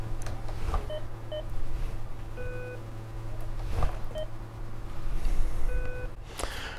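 Electronic variometer beeping from a Volantex ASW 28 model glider in short pulsed bursts at changing pitch, repeating over a steady engine-like drone and rushing air.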